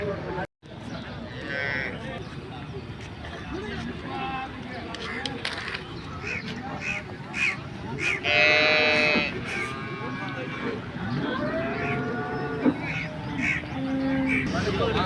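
Dairy cattle low repeatedly amid a busy cattle market din in Anthiyur, with voices chattering throughout and occasional bird calls mixed into the crowded background.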